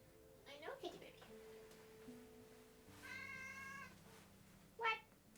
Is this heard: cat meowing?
yes